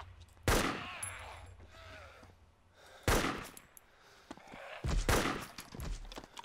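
Gunfire in the video game DayZ, from a weapon with a reduced rate of fire: three loud, sharp bursts of shots a second or two apart, with quieter rustling and movement between them.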